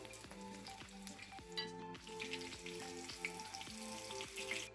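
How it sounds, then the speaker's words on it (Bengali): Samosas deep-fry in hot oil, giving a continuous bubbling sizzle with crackling pops and occasional clinks from utensils, heard close up and without voices. "এখান থেকে কয়েকটা নিয়ে ভাজি করতেছিলাম খাওয়ার জন্য"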